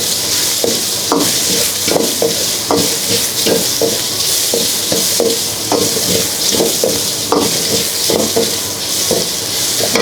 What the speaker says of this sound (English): Fry until the prawn